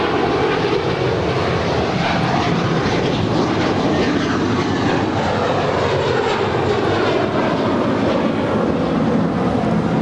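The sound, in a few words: American Airlines Airbus A321 departing LAX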